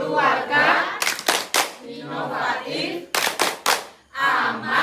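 A group claps out the Indonesian rhythm game 'tepuk gender' at a gender-equality workshop, sharp bursts of several quick claps in unison alternating with a leader's spoken chant.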